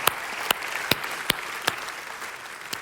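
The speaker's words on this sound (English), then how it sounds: "can we just give a round of applause for the people that have partnered?" A church congregation applauds at a ministry year celebration, with a soft wash of clapping punctuated by sharp, evenly spaced louder claps roughly every half second, steady and moderately close throughout.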